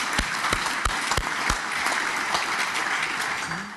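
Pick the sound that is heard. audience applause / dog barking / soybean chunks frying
audience applause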